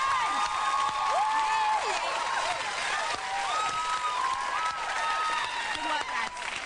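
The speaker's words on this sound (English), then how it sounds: "Good skills, good clapping skills." A studio audience claps and cheers for guest Neil Tennant, a dense, steady wash of applause with whoops and excited voices mixed through it, loud and continuous throughout.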